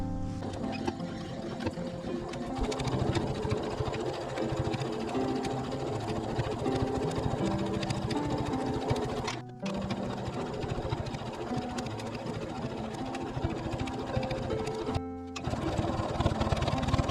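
A sewing machine stitching all the way around a fabric seam, running in a fast, steady mechanical whir with rapid needle clatter and two brief pauses, close up, with a little quiet talk underneath.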